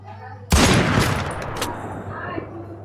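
Gunfire in a video game breaks out as a sudden, loud burst of rapid shots, then fades into a rumbling decay over a low steady hum.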